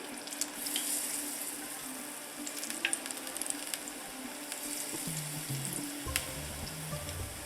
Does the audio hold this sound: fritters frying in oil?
yes